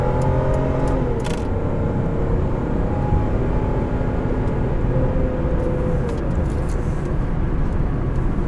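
Engine of a 2009 Volvo S80 3.2 driving along, a steady loud drone with rising and falling tones over road roar, heard from inside the cabin with a few light clicks, no talking.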